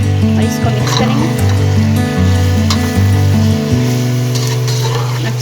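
A ginger, garlic and green chili paste sizzles loudly in a hot pan while it is stirred, with close crackling, scraping and steady frying and no talk.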